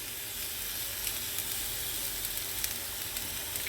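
Food sautéing in a pan over a low flame, giving a soft, even, continuous sizzle with faint crackles throughout and no talking.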